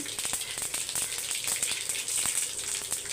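Mustard seeds crackle in hot oil while drumstick-leaf stir-fry is being started, a steady close sizzle with quick irregular pops and spits throughout.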